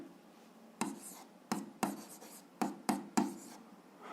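Someone writes an algebra expression by hand, producing six short, crisp scratching strokes in an irregular rhythm, close and clear against a quiet background.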